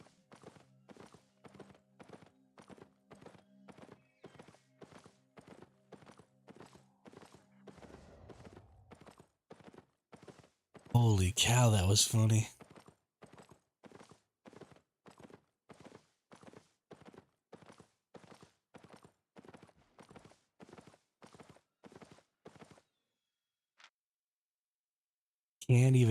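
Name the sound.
horse galloping in Albion Online video game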